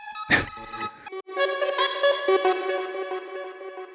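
After a sharp hit, a heavily processed vocal chant, echoing, glides and wavers like an eerie bowed string, sustained and bright with a warbling pitch.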